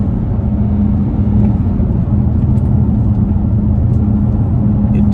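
A BMW X3 30d M Sport's 3-litre diesel engine pulls hard under acceleration, a steady, loud low-pitched drone and rumble heard from inside the cabin, sustained without a break and with no talking.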